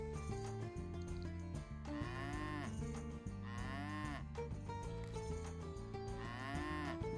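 Cattle mooing in the farming game Pumpkin Days, several long drawn-out lowing calls rising and falling over steady background music, loud and continuous with no talk.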